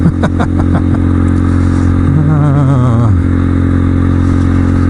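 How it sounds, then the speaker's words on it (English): A loud motorcycle engine runs throughout on a cold-weather ride, with rattling clatter early and the pitch rising and wavering as it revs, close and continuous. "what's that crazy guy doing, driving that motorcycle around?"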